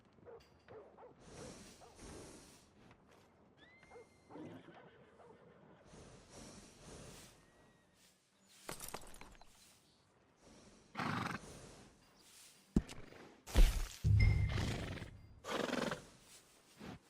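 Horses in Red Dead Redemption 2 neigh and snort loudly in repeated bursts, with hoof clops and a dog barking, mixed over quieter stretches of ambient game sound.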